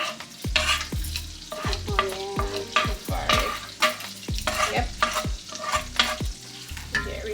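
Chopped onion and garlic sizzle in a hot pan for shrimp mac and cheese, with repeated spoon scrapes and stirring knocks in an uneven rhythm over a steady frying hiss.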